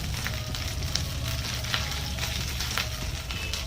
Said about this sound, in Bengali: কালো জিরে সাদা জিরে ফোড়ন দিয়ে দিলাম।